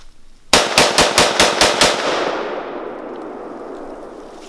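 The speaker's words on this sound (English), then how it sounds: "Shooting through wood." Seven rapid, loud 5.56x45 rifle shots fired through wood outdoors, evenly spaced cracks followed by a long fading echo.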